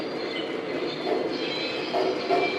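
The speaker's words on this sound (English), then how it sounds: "I really like this cookie boxcar too, also because you hear how it has the clickety clack" A Lionel toy cookie boxcar rolls along model track with a steady, soft clickety-clack and a faint wheel squeal. The rhythm stays continuous and close throughout.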